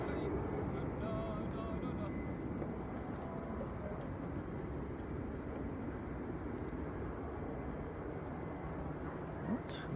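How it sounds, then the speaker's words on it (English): A Ryanair airliner touching down at Manchester Airport, a broad steady jet roar heard from a distance that holds level throughout, with faint voices in the background. "Another Ryanair just touched down."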